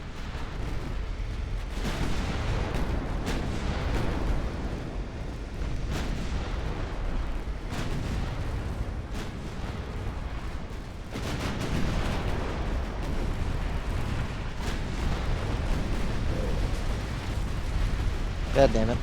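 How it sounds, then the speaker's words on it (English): Naval battle in the Ultimate Admiral: Dreadnoughts warship game, with torpedo hits and gunfire on warships rumbling as continuous heavy booms and artillery-like blasts, loud and dense throughout, with talk over the top. "the Albany just took like several torpedo hits"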